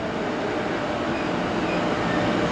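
A local train bound for Takasaki, four doors per car and fifteen cars long, rolls into a station platform, a steady loud rumble of wheels and carriages filling the whole stretch without pause.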